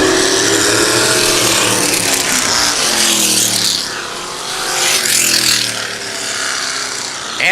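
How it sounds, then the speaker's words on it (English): Antique and vintage race cars roar around a track at night, a loud, continuous wash of engine noise as the pack runs down the back straightaway, with pitch swelling and fading as the cars pass. "nderson feeling some serious heat from Tatro as they make their way down the back straightaway"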